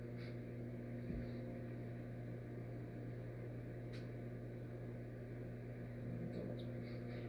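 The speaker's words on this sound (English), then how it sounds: "It's my hand mixer." A handheld electric mixer whirs steadily at close range in a home kitchen while pineapple upside-down cake batter is being made, a constant motor drone with a faint clink or two and no talk over it.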